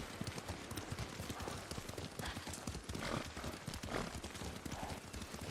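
Horse hooves clip-clop at a steady riding pace in the Ghost of Tsushima video game, rhythmic thuds over a busy, noisy background, with faint speech.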